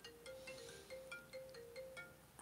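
A mobile phone ringtone plays faintly in a quiet room, a repeating melody of short electronic tones that carries on for the whole moment.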